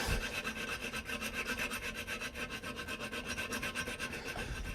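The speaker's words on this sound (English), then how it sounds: "This is a little bayonet saw, a little hacksaw," A mini hacksaw cutting through a brass nut and bolt, with quick, regular back-and-forth rasping strokes, close and moderately quiet, with no voices.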